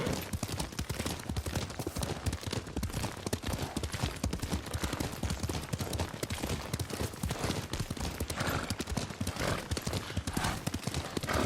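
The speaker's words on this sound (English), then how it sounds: "Lord Sakai taught me to ride a horse." Rapid horse hooves gallop continuously and close in the video game Ghost of Tsushima, a dense drumming rhythm with a brief whinny and faint voices underneath.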